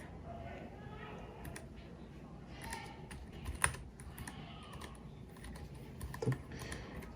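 Keys clicking on a Keychron K3 keyboard, a scattering of soft, irregular taps with a few sharper clacks, fairly quiet over a low background hum.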